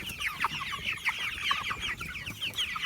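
A flock of 4.5-week-old pastured chickens, still feathering out, clucking and peeping continuously, many overlapping chirpy calls close by.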